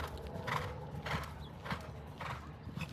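A horse canters over an eventing show-jumping course, its hoofbeats thudding in a steady rhythm of about four beats over three seconds, heard at moderate distance under faint background noise.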